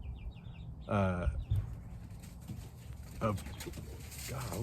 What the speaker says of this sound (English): chickens are going crazy